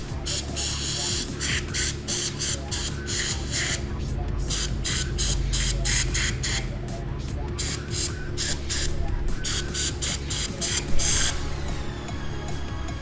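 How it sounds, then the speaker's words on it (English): Brake parts on a 2007 Suzuki RMZ 450 motocross bike, including a metal piece with a circlip, get sprayed clean: close, loud aerosol hiss in repeated short bursts against a steady low background hum. "Spray it out."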